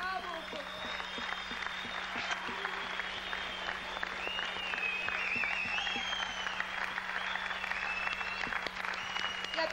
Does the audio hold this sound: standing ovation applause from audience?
yes